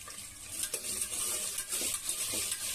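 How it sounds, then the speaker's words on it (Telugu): Onions fry in oil and ghee with biryani spices in a cooker, giving a steady sizzle under soft stirring and scraping sounds. "ఆనియన్స్ బాగా ఫ్రై అవ్వాలి."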